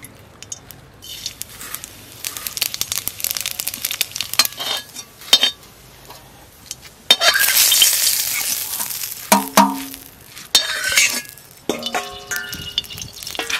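Cumin seeds fry in hot oil, bursts of loud sizzling and crackle mixed with utensil stirring and light clinks, close and uneven.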